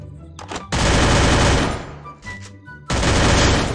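Rapid automatic gunfire from a shooting video game, with loud sustained bursts broken by brief pauses and a final burst, set against the game's background sound.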